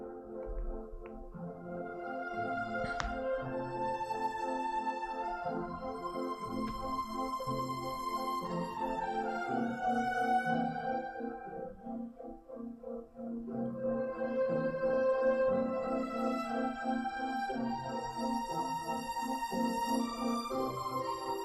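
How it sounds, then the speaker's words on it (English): Piano carries the main melody over a bed of strings in the opening A section of the piece, playing continuously at a fairly soft, even level without any voices. "The piano is going to be playing the main melody"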